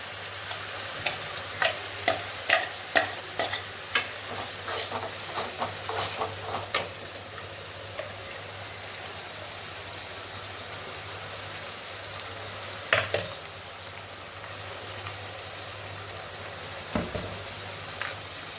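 Tomatoes sautéing with ginger garlic paste in a pan give a low, steady sizzle, with quick clusters of stirring taps early on and a few isolated scrapes later, alone and moderately close.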